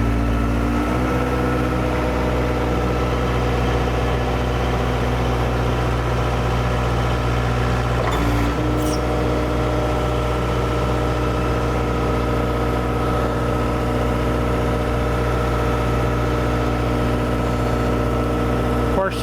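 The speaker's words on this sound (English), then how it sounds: "Take our forks up, give it a little throttle here." A Case 586C 6,000 lb diesel forklift engine runs continuously with a strong, steady low drone and pronounced harmonics, throttled up slightly and holding a constant pitch throughout, with brief clicks partway through.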